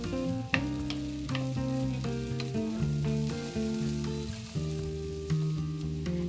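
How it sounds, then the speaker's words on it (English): Mushrooms and garlic sauté in vegetable butter over medium-high heat, a steady sizzle running beneath prominent background music with occasional stirring clicks. "Add the mushrooms and sauté on medium-high heat for a few minutes."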